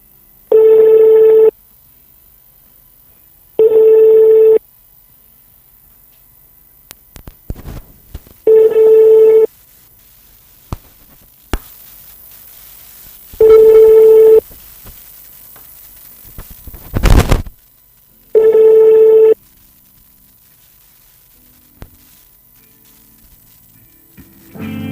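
An outgoing phone call rings on a telephone line, five evenly spaced electronic ring tones about five seconds apart, loud and close, with faint clicks and a burst of static between them.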